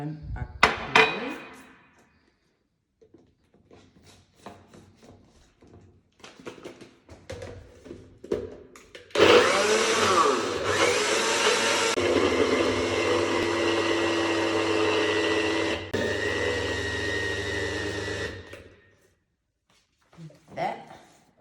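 A close, loud blender whirs for roughly nine seconds, its pitch wobbling as it blends spirulina protein ice cream with added water. Clatter and handling noises come before it, and a short clunk follows.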